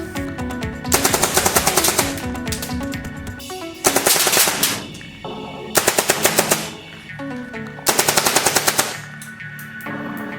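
A Tippmann M4 CO2-powered gun fires full auto in four rapid bursts of sharp, evenly spaced cracks, each burst lasting about a second, with brief pauses of hiss and mechanical noise between them.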